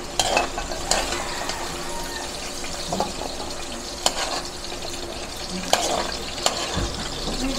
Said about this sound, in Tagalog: pinirito muna natin ang patatas at ang carrot